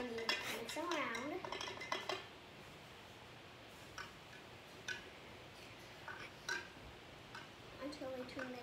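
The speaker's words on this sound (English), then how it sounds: "then you use a spoon, and then you mix them around" A spoon clinks and taps against dishes while stirring M&M's in water, light scattered metallic ticks close by, with someone talking over the first part.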